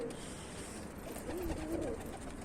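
Bursa breed pigeons in a coop coo softly and repeatedly, with low, gurgling calls close by in a quiet setting.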